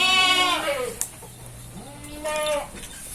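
Several goats and sheep bleat close by in wavering cries, with a short break between calls and a faint click in the pause.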